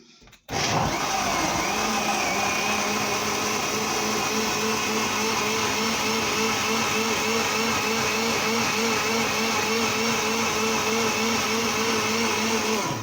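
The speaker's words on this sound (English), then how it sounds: "I am going to switch my blender on and then I'm about to start blending my grape juice" A blender switches on and runs at a steady, loud whirring roar while blending green grapes into juice, continuing without pause.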